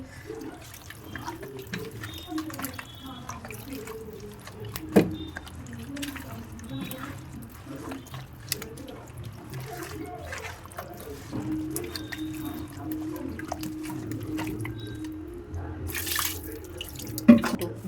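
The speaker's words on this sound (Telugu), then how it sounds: "వాటర్ తగిన వాటర్ నీళ్ళు పోసుకొని కలుపుకొని స్టవ్ మీద పెట్టేసుకోవాలి" Water is poured into a pot of mutton trotters for paya curry and mixed in, a soft, steady splashing and trickling with occasional clinks, fairly quiet.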